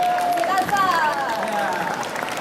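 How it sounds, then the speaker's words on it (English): A crowd applauds a kagura serpent-dance performer at a Japanese festival, a broad, steady wash of clapping with rising and falling tonal sounds and a voice over it. "Could you give him a one round of applause?"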